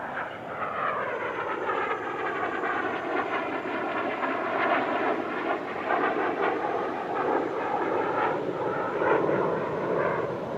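An L-15 jet trainer roars steadily through an airshow flying display, its engine whine wavering and shifting in pitch as it passes, loud and continuous throughout with no talk.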